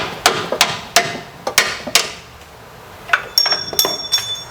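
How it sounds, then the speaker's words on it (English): A small hammer taps a metal suspension part on a Chevy Avalanche with over 300,000 miles, sharp ringing clinks in an irregular rhythm, close by, with a brief pause midway before a quicker series. "get a little hammer and just tap it"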